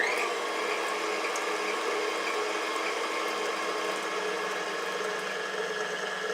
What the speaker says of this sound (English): now we're going to mix them until these are light and slightly fluffy, about 2-3 minutes